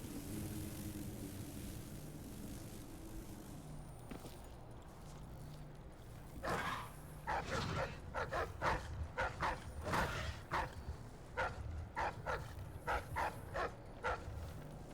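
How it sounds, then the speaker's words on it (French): Hounds in the video game Dishonored 2 bark repeatedly in a rapid, rhythmic series over a low ambient hum, loud and fairly close, starting midway after a quieter stretch. "je ne souhaite pas affronter tous ces chiens de l'enfer"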